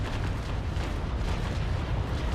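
Cannon broadside fire in Naval Action, a fleet battle between Trincomalee and Indefatigable frigates: a dense, rumbling roll of heavy booms that fills the whole stretch, loud and sustained with no talk over it.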